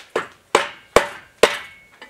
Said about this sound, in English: we're going to tap the seal in.